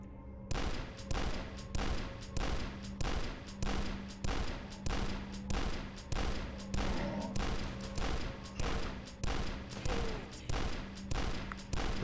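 Rapid gunfire from enemies shooting each other in the retro shooter Dusk, with steady repeated bursts of shots and a low droning hum underneath for the whole stretch.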